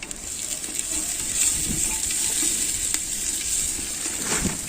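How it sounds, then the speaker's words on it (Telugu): Fenugreek leaves frying in a clay pot over a wood fire in a rooftop garden, a steady close sizzle with occasional faint crackles and light clinks. "అది వేగుతూ ఉంటుంది మెంతి కూర"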